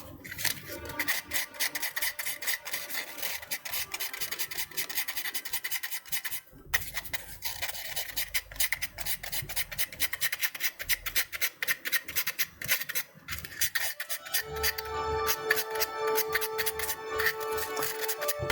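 Close, continuous rasping as a part from a plastic model kit is sanded by hand, rapid back-and-forth strokes with brief pauses, loud and alone without talk.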